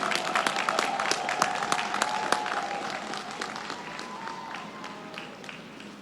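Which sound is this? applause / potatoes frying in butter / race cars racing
applause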